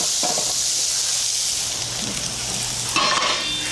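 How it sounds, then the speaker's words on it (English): Steady loud sizzling of potatoes hitting a hot baking sheet, with a brief clatter and a fresh burst of crackle near the end. "They're sizzling when they hit the hot baking sheet."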